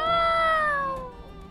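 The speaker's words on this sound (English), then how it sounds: "Meow. Meow." Cat meowing in the farming life game My Time at Sandrock, a single drawn-out, clear meow with strong harmonics that slowly falls in pitch and fades.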